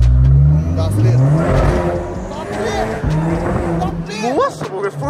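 A 2015 Audi TT convertible revs hard, its engine note climbing and falling in loud close surges while excited voices talk and exclaim over it.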